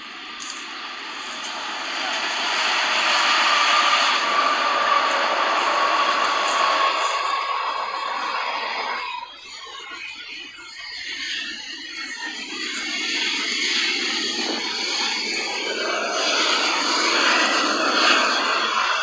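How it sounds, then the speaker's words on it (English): A loud, steady rumbling roar of a train passing close by near an abandoned winery in Guasti, California, continuing throughout, with a brief dip partway before it swells again. "So it's kind of loud because of the train still going."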